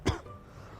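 A single short, sharp cough from one person, close and fairly loud, followed by quiet background.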